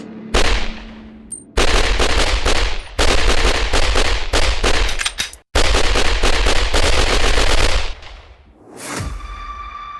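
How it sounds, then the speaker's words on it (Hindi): Gunfire from a drive-by shooting at a red light, with a white Cadillac pulled alongside; a loud, close burst of rapid shots in dense volleys across several seconds, ending in a ringing high tone. "चौदह गोलियां चलती हैं।"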